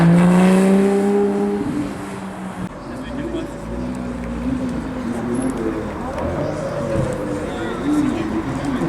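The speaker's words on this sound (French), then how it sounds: "GT3 qui arrive au rassemblement." A GT3 sports car arrives at a Cars&Coffee meet in Arlon, its engine note rising and settling over several seconds amid outdoor crowd noise, with someone talking over it.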